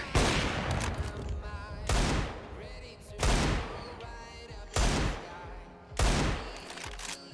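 Bursts of gunfire in the video game CS:GO come as four distinct volleys of rapid shots spaced about a second and a half apart, with a faint voice in the background.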